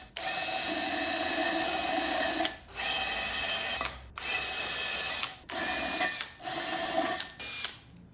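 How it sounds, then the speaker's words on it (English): A drill fitted with a die grinder bit whines at high speed, grinding the metal manifold of a 1934 Chevy truck's 327 small-block engine in five long bursts separated by brief pauses, loud and close. "I'm just going to start hacking into it with a die grinder."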